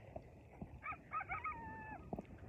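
A dog gives one drawn-out howl with several quick rising wavers that trail into a sustained tone over a noisy outdoor background. The howl is moderately loud, and short thumps come before and after it.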